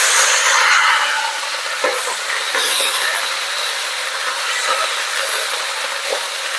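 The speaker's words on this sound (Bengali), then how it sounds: "তো আমার কড়াই তেল গরম হয়ে গেছে, এবার আমি কেটে রাখা সবজিগুলো দিয়ে দেবো" Cut vegetables, including flat beans and eggplant with garlic leaves, sizzle in hot oil in a wok. A loud, dense hiss runs throughout, with a few faint clinks of stirring and no speech.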